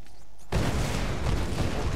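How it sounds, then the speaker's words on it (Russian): After a brief quiet moment, a sudden loud explosion in the video game Tomb Raider bursts out and rumbles on as a dense, sustained blast. "Я думал, взрыв посильнее будет."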